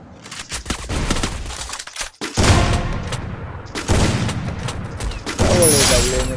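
Rapid gunfire bursts from the mobile battle game Free Fire, dense and loud, coming in several sustained volleys with brief gaps between them, and no voice over the shooting.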